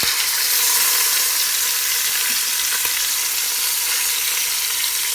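Beef short ribs brown in an Instant Pot with a loud, constant, close sizzle and no voices over it.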